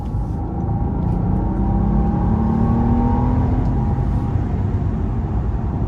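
A 2019 Maybach S650 with a twin-turbo V12 accelerates hard in sport mode, its loud steady engine drone and rising whir continuous throughout with no one speaking.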